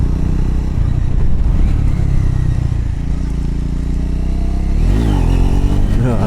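Motorcycle engine revving hard during a wheelie on a rainy solo gravel ride, a loud continuous roar with a rising surge of revs near the end, wind and road noise throughout.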